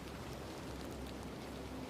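Soft, steady rain patters gently and continuously, faint and even in level, with no voices.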